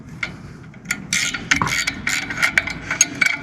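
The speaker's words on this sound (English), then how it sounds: "I'm going to loosen this bracket up just a little bit because I was going to have to adjust it anyways" Ratchet wrench loosening an LED light mounting bracket, giving close, sharp bursts of clicking pawl sounds in irregular quick runs with short pauses between them.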